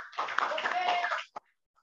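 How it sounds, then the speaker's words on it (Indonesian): Students in an Indonesian classroom give a short burst of clapping for a classmate, about a second of mixed hand claps close by, then one sharp final clap and quiet. "tepuk tangan buat Nika."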